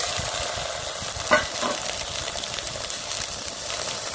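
Small shallots fry in hot oil in a pan for a village-style Kongunadu chicken curry, giving a steady, moderate sizzle throughout with one brief stir or clatter near the start.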